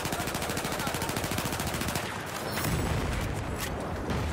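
Rapid automatic gunfire from a Battlefield 4 match, with dense bursts of shots for about two seconds, then heavier, rumbling fire and impacts. Loud and continuous throughout.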